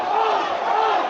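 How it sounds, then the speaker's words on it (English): Supporters at an Aldershot Town football match shout together in a loud, sustained crowd roar demanding a second yellow card for a player. "The Aldershot Town crowd call for a second yellow."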